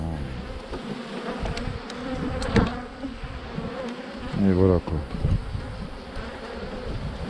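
A steady hum of many honeybees buzzing close by at an open hive while frames are handled, with brief handling noises and a short spoken phrase near the end.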